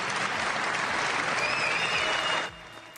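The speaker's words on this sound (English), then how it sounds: "Delilah Coleman was honored with a roaring applause at the State of the Union" A large crowd at the State of the Union gives a loud, roaring round of applause, dense sustained clapping that cuts off sharply near the end.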